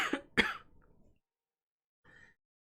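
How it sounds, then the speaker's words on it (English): Two close, forceful coughs in quick succession trailing into a breath, followed after a pause by a faint short throat sound. "when you think about coughing, then you start coughing."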